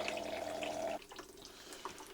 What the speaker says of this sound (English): Turn on the water pump, and then we can empty out this one.